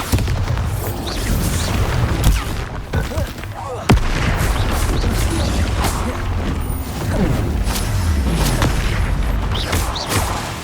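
Blasting-spell explosions boom in the game Hogwarts Legacy, heavy low thuds and crashes with debris rattling, one sharp loud burst standing out among rolling impacts, with a voice calling out spells.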